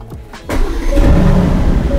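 A car engine cranks and catches, then settles into a loud, steady idle after a brief rev, heard close up with no talking.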